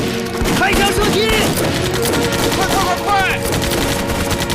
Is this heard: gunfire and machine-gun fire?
yes